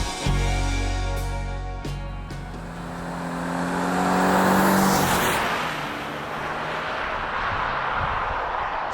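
A car driving along roads on the Olympic Peninsula near Olympic National Park, heading toward Cape Flattery: a steady engine and road rumble, swelling and fading as it moves along, with no one talking.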